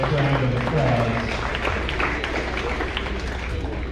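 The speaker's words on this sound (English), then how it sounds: "nice round of applause" Crowd applause at a county fair 4-H/FFA goat show, honoring the champion goat: a voice over a loudspeaker is heard briefly at first, then a broad, steady wash of clapping from the stands carries on to the end.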